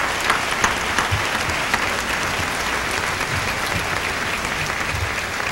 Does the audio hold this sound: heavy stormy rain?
no